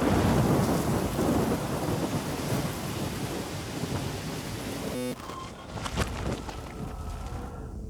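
A thunderstorm in the Life is Strange video game, set in Oregon: heavy rain roars with rolling thunder, then the downpour drops to a lighter hiss with distant rumbles.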